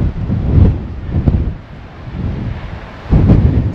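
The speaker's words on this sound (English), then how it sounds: "It would be really nice if it wasn't windy" Gusts of coastal wind buffet the microphone in loud, rumbling bursts that rise and fall irregularly, with no voices present.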